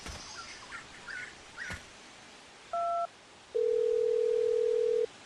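A phone call to a dad: a brief two-tone dialing beep, then a long steady ringback tone held for about a second and a half, with faint outdoor rustles and chirps before it.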